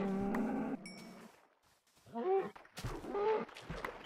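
Cows in the video game Minecraft moo a few times: a low, tonal moo at the start and two shorter calls later, with small game sounds in between.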